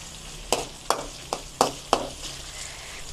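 Onion, tomato and urad dal frying in a pan, a low steady sizzle broken by five quick stirring knocks or scrapes at roughly even intervals, close and moderate in level.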